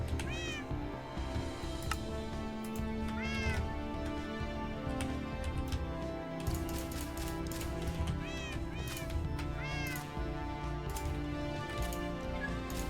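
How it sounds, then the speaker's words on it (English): Minecraft cats meow repeatedly in short, rising, scattered cries over a busy game soundscape, several meows in clusters through the whole passage, close and clear. "Putting the cats in the dark hole."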